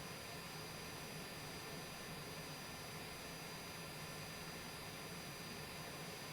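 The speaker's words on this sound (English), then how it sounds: "Hey, baby, now we're in a jet." Jet engine in a flight simulator game roaring as a steady, broad hiss with a faint high whine running through it, constant and unbroken with no talk.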